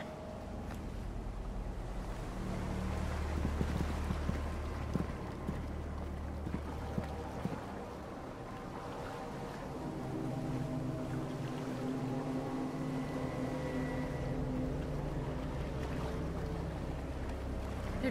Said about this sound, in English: Come on, we should go. The boat's coming.